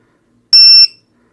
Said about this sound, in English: That's the full alarm.